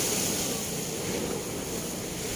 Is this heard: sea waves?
yes